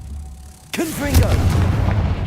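A Confringo spell blast in Hogwarts Legacy erupts with a sudden booming burst, followed by swooping tonal effects and a rumbling tail, with a voice shouting over it.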